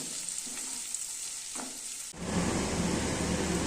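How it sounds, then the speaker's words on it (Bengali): Chopped onions with green chillies hit hot oil in a pan for a curry, bursting into a loud, dense, steady sizzle after a quiet start with faint stirring, no voices present. "এবার পেঁয়াজটা লাল লাল করে ভেজে নিতে হবে।"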